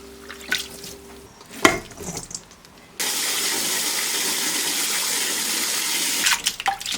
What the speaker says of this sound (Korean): 물에 한번 씻어주고 물기는 최대한 꽉 짜줬다.